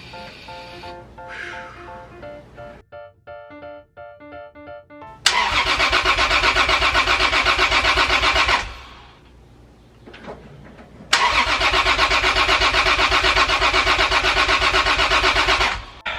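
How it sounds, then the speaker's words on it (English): Toyota Supra engine cranking, then catching and running loudly at high revs for several seconds, dropping away, then firing up again and roaring steadily. "we're going to attempt the first start of the Supra."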